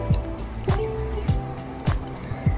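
A spoon stirs ground coffee with powdered sugar in a cup, scraping in a steady rhythm of about five gritty, sweeping strokes, close by and fairly quiet.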